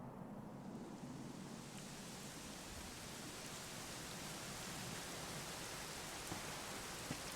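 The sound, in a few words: rain in video game Dragon Quest XI S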